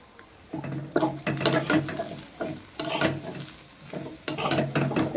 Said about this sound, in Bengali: কাঁচা লঙ্কা দিয়ে আলু ভাজা কি সুন্দর লাগে বলো